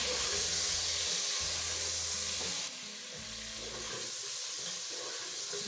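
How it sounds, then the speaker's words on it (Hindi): Chicken pieces fry in a pan with onion, ginger and garlic, giving a steady loud sizzle with broad hiss and occasional stirring scrapes, easing slightly partway through; no voices. "अब हम इसको फ्राई करेंगे हल्का सा।"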